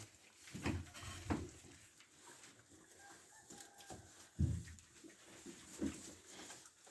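Piglets grunting and squealing in short bursts close by, with a few sharper squeals standing out against a busy farmyard background.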